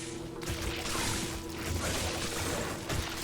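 In Diablo 2 Resurrected, a character drinks from a water well with a short watery, pouring gurgle over steady game ambience and a low hum, the splashy swells rising and falling across a few seconds.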